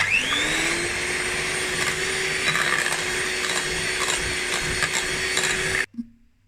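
An electric mixer whirs steadily as it beats chocolate cake batter, a loud continuous motor whine that runs unbroken and then cuts off abruptly, followed by a faint clunk.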